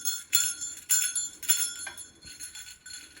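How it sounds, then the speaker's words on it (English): A small bell rings out several bright, chiming strokes in a short rhythmic pattern, each ringing briefly before the next, close and clear with no talking. "This is a bell. It rings a funky tune."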